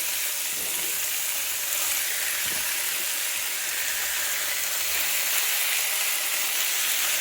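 Angus steak sizzles in a hot pot for one-pot beef stroganoff, giving a steady, close frying hiss with a few faint stirring knocks and no talking.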